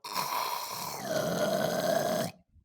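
A person snoring, one long rasping breath that rises and shifts in pitch before cutting off, fairly faint and close, with no talking.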